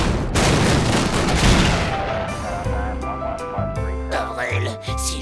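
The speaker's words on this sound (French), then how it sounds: "pourquoi t'as tout fait exploser?" A cartoon explosion erupts with a loud, dense blast that rolls into crackling, rumbling debris and clattering as the noise slowly settles.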